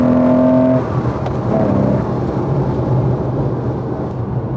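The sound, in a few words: Porsche 911 engine accelerating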